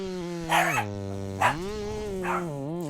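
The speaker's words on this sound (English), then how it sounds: "if you heard the dog barking in the background" A dog barks about three times, a bit distant, over a loud, droning chainsaw motor whose pitch rises and falls during poplar felling.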